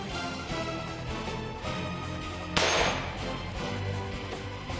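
A .44 Magnum handgun fires once at a titanium plate outdoors, a single sharp loud report in the middle of steady background noise.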